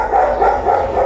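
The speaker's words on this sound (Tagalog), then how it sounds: "Ang ingay ng aso" A dog at a rural Filipino home gives a close, loud run of rough barks or yelps, with no talk in the clip.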